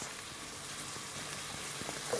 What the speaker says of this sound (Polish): Ładnie nam się to smaży